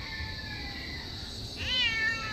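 A cat meows near a cyclone wire fence build site, a rising, wavering call late in the clip over steady outdoor background noise.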